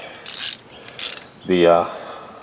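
A ratchet tightening a nut while installing a coolant overflow tank, a couple of quick clicking bursts followed by a short metallic whir, close with no talking.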